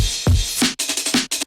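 A drum break with crash cymbals layered on every kick drum, played as a short punchy loop: a low kick thump followed by several bright, washy crash hits in quick succession, loud and up close.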